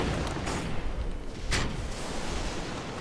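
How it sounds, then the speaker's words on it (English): Dull booms and bursts of explosions in the video game Defiance over a constant rumbling bed, with a sharp blast near the middle. "So much explosions."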